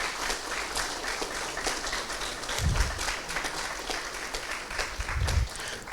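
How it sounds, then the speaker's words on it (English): A room full of people at a gaming charity event gives a steady round of applause, moderately distant and even, with a couple of low thumps partway through. "if you could give yourselves a round of applause for that"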